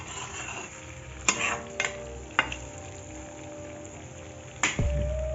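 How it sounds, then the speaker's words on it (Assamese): Potatoes frying in hot oil in a pan as they are stirred, with a steady low sizzle broken by a few sharp scrapes and clanks of the utensil against the pan. "আলুখিনি দি লৰাই দিছোঁ"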